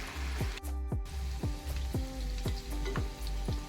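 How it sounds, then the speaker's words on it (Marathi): Cabbage manchurian balls deep frying in hot oil give a steady, close sizzle with a regular series of bubbling chirps roughly every half second. "असेच सर्व आता आपण तळून घेणार आहोत"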